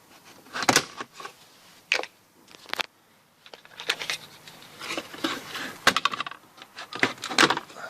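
Plastic dashboard trim is pried off a Nissan Dualis in a series of sharp, close clicks and snaps, separated by short quiet gaps.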